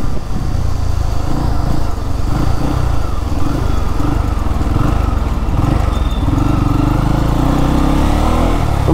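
A Bajaj Pulsar F250 motorcycle ridden on the highway, its engine droning loudly and steadily with heavy wind rush, heard close from the rider's position with no clear speech.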